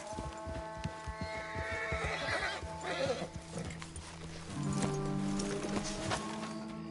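Horses whinny and neigh loudly while hooves clop in a steady rhythm in Red Dead Redemption 2, with a low hum behind them; no one speaks.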